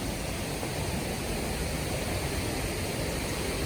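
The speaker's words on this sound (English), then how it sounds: "but I made it to the waterfall" A waterfall pours somewhere in a shaded woodland, heard as a steady, even hiss of falling water at low volume with no other sounds.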